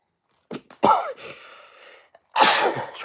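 A sharp, close sneeze bursts out after a short sniffing buildup, followed by a second explosive burst; no talking.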